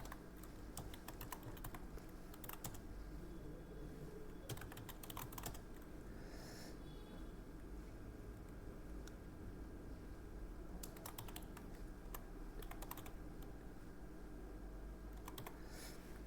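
Quiet computer keyboard typing while writing in MS Word, with bursts of rapid key taps separated by short pauses over a faint steady background hum.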